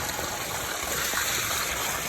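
Large amounts of water gush and stream steadily in a Cambodian village, a continuous close, full rush with no pauses and no talk.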